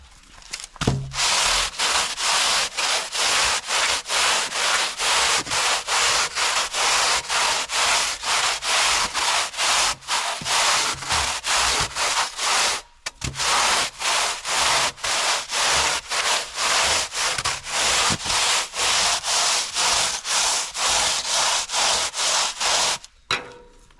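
Steady, loud abrasive rubbing as a float is worked back and forth over a polystyrene foam wall, rhythmic strokes running continuously with two brief pauses, close up and without talk.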